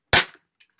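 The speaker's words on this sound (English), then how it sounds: "Oh, that smells like fireworks now." A single sharp firework-style pop bursts out loud and close, decaying quickly, followed by a faint crackling tail a moment later.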